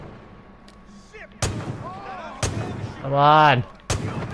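Gunfire in the video game Far Cry 5 on an arcade map: three sharp, loud shots at roughly one-second intervals, with a shouting voice in between and a brief tonal game effect.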